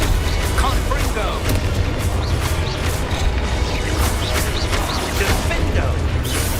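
Booming blasts and crackling impacts from a Confringo spell in Hogwarts Legacy, layered into a loud, continuous battle din with shouted spell incantations running over it.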